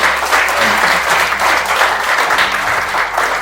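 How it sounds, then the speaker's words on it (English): A seminar audience applauds at the opening of an event on youth drug abuse, a dense, steady wash of many hands clapping close by for the whole stretch. "Please, you can put your hands together while clapping"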